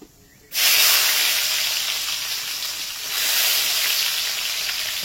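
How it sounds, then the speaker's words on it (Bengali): Bay leaves and spices hit hot oil in a pan and set off a loud, steady sizzle that swells slightly a few seconds in as chopped onion goes in for dhaba-style kabuli chana. "ভেজে নিয়ে এর মধ্যে দিয়ে দেবো সেই কুচানো পেঁয়াজ, যেটা আমি রেখে দিয়েছিলাম"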